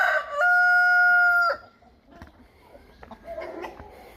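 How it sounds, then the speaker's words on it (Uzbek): A large rooster gives one loud, close crow, held steady and then cut off, followed by quieter clucks and faint bird sounds. "Xo'rozlar."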